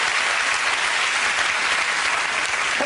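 Loud, dense applause from a television talk show studio audience, a continuous wash of clapping sustained evenly without talk.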